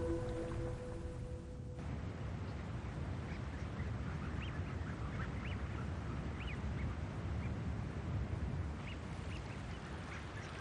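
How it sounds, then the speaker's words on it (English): Harlequin ducks call from open winter seawater, with soft, faint quacks scattered over a constant rushing wash of water and wind. "Harlequin ducks, often found around the Sea of Okhotsk."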